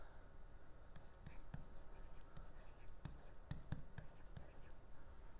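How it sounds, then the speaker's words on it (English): Pen or pencil writing by hand on paper, very faint and close, with soft scratchy strokes and a few light taps at irregular intervals over quiet room tone. "So let's write that down."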